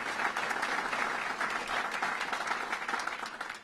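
A crowd claps steadily at a governor's budget address in Rochester, a dense, even wash of applause that holds for several seconds with no talk over it.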